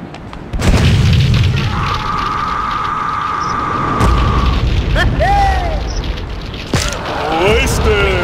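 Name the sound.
rocket launcher explosions in the video game GTA2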